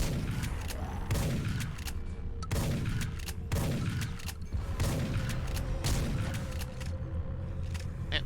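Gunfire in a VR shooting video game, dense repeated shots and booming blasts in bursts over a loud continuous backdrop of game mechanisms, with no clear talk.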